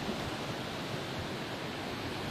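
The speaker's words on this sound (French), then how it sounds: "La cascade là, elle est pas mal." A mountain waterfall in the Oisans range near a high winter refuge roars as dense, steady broadband rushing noise, loud and unbroken throughout, with no voices.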